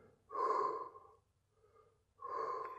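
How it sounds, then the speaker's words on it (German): Two long, audible breaths out through the nose during a stretching exercise. They are close and separated by a quiet pause, with a faint, softer breath in between. "Schön atmen, beim Ausatmen immer ein bisschen weiter rein."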